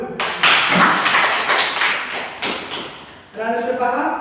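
A primary school class claps in a classroom during a maths lesson, lively, close clapping in surging bursts for about three seconds, followed by a voice speaking.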